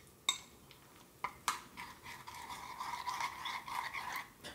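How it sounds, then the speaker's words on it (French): A spoon stirs protein powder into milk in a bowl: a few sharp clinks against the bowl, then continuous wet scraping and swirling, close and fairly quiet. "Donc, je vais mélanger."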